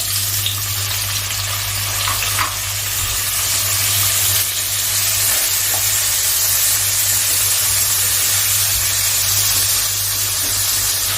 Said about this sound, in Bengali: এবার আমি চিংড়ি মাছগুলোকে ভেজে নিচ্ছি